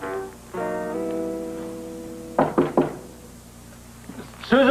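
Several knocks on a door, a quick cluster of three sharp raps in the middle followed by another louder knock at the end, heard indoors alongside sustained tonal sounds.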